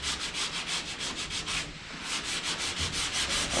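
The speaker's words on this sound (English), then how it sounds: "But I think sanding this way," Car bodywork is sanded by hand in steady, rhythmic back-and-forth strokes, a close, raspy scrubbing that repeats about five times a second with one brief pause.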